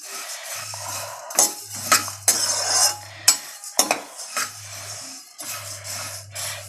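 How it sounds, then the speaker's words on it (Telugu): Whole spices for homemade podi masala dry-roast in a pan, stirred with a utensil that scrapes and clinks repeatedly in uneven bursts, a faint sizzle beneath, no speech. "ఇలా దోరగా వేయించుకోండి"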